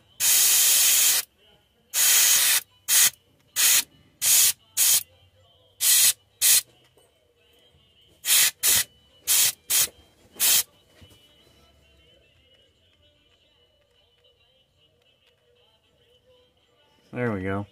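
An airbrush spraying little white spots onto a red and pink shad-pattern fishing lure, a series of about a dozen sharp, loud bursts of hissing spray of varying length, separated by near silence with a faint steady hum.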